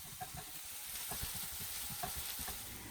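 Chopped onions with a pinch of salt sizzle in a pan for keto upma, a steady soft frying hiss broken by light stirring scrapes, close and fairly quiet.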